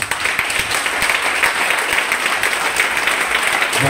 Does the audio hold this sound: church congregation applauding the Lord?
yes